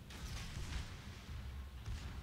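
Naval gunfire in World of Warships, a light cruiser Königsberg pounding shells at an enemy: repeated low booming salvos and rumbling blasts that keep going almost without pause, loud and dense, with no talking.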